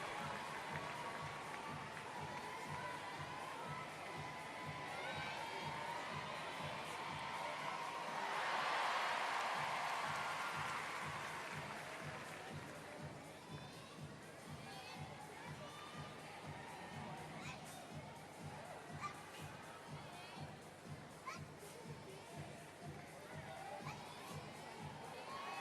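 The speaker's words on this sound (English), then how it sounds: "a big cheer goes up for Ivan Dijanovic of Serbia following those 2 falls from the bar" A large arena crowd at a World Challenge Cup gymnastics event cheers and claps, swelling into a loud roar partway through and then settling into rhythmic clapping, all heard from a distance.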